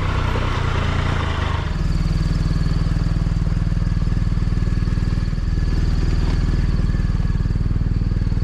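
A BMW R 1250 RT Sport 2024 motorcycle idles steadily at a dealership, its boxer engine giving an even, close, continuous low throb with a brief shift in tone near the start.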